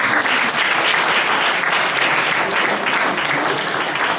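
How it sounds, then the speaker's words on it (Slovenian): Loud, sustained applause from an audience at an award ceremony, dense steady clapping from many hands that continues evenly throughout. "Lahko zaploskate še enkrat za vami."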